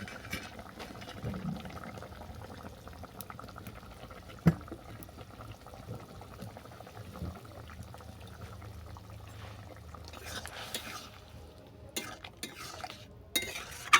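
Beef keema and prawn keema are stirred into a boiling curry with water chestnuts in a pot, giving soft bubbling and occasional spoon scrapes and clinks against the pan, fairly quiet and close, with sharper knocks near the end.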